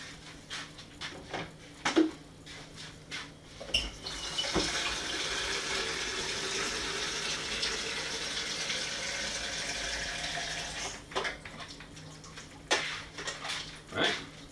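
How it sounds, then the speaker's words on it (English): A tap runs cold water to top a homebrew beer kit up to the 23 litre mark, a steady close hiss of flowing water lasting several seconds between scattered clinks and knocks. "Now we're just going to top it up to the 23 litre mark with cold water."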